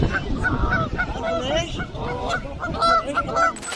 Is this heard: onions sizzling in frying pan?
no